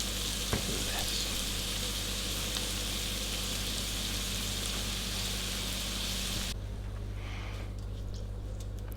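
Chorizo pie filling fries in a pan with a dense, steady sizzle and crackle that fills the room, then drops sharply to a much quieter hiss near the end.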